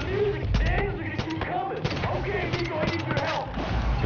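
Pistol shots ring out in the first-person shooter Far Cry 5, a rapid irregular string of close, sharp reports mixed with game effects and someone talking over them.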